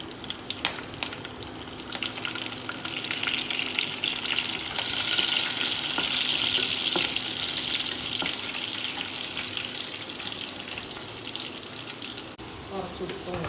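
Mustard seeds, cumin, dried chilies, curry leaves and garlic frying in hot oil for tomato rice, a sustained crackling sizzle that swells in the middle, with occasional stirring clinks and a faint voice now and then.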